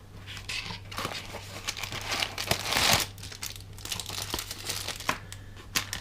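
Thin paper packaging around cheap copy fishing lures crinkles and crackles steadily as it is unwrapped close by, with sharper rustling bursts near the middle and no voices.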